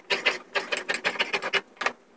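Cutting fabric to size for a palazzo, heard as a quick series of close, crisp scissor snips in an uneven rhythm, with a short gap before one final cut.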